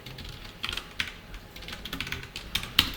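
Close typing on a computer keyboard as a console command is entered, a brief burst of light, uneven key clicks with one sharper final tap, quiet and alone.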